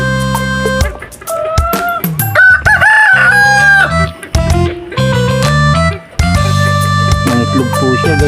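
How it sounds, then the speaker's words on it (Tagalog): A native hen cackles loudly and repeatedly in short, rising squawks after laying an egg. The calls are close by and come in bursts with brief pauses between them. "nagputak-putak to guys yan oh, yung native"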